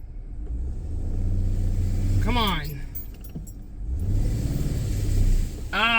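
An engine revs in bursts beneath talk as someone tries to drive a stuck piece of equipment forward out of a hole. The revving is close and loud, and a brief sharp squeal rises partway through.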